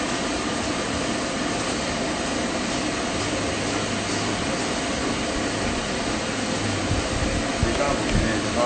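A stand dryer blows hard on its strong setting while a Standard Poodle is groomed, a steady, loud, broadband rush of air that continues without a break, with faint talking underneath.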